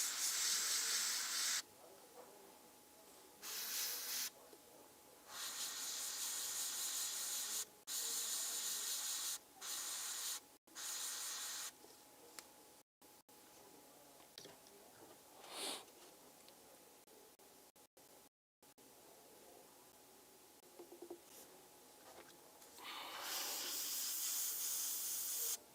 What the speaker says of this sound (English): A little bit more dangerous, of course, to spray it on a model when we've got the other things alongside of it painted